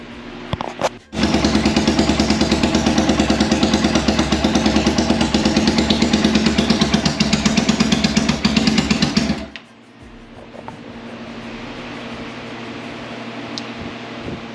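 Triumph motorcycle engine, not running right with a suspected carburetor problem, idles loud and steady for about eight seconds while warming up, then cuts off, leaving a faint hum.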